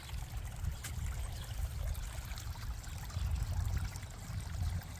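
Rain and snowmelt water rushes along both sides like a river, a steady low gushing flow heard close by, fairly quiet and unbroken, with no voices.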